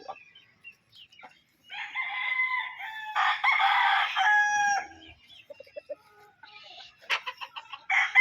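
Roosters on a gamefowl farm crow in several long, loud calls close by, with scattered short clucks and chicken vocalizations between them and no talking.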